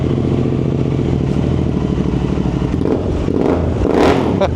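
A 1979 100cc Scrambler motorcycle engine runs close and loud, a rapid, rough two-stroke-style burble with throttle blips and rising revs near the end, continuous throughout.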